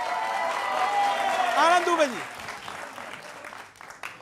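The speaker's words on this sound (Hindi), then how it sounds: "तालियों के साथ स्वागत करिए भाई" A studio audience on a Hindi television debate show applauds to welcome a guest, a steady wash of clapping running beneath a voice calling out the guest's name, then fading.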